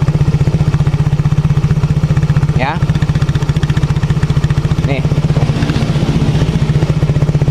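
A Yamaha X-Ride motorcycle engine runs steadily at a rough, throbbing idle, loud and close, with someone speaking briefly over the chugging exhaust.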